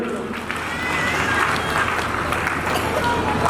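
Applause welcomes guests at a Shrimad Bhagwat Katha gathering at Bhavani temple in Cheeka: dense, steady clapping from a crowd that swells slightly after the first half-second and holds for the rest, with a murmur of voices beneath.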